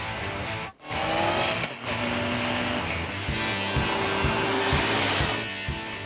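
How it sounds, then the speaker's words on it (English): A Honda CB1300 motorcycle, a heavy 80s-style bike with a 107 bhp engine, revs hard with a loud, dense growling roar that rises and dips, its throttle blips cutting in and out close by. "with a heavy growling engine and 107 brake horsepower encased in a heavy 80s style bike"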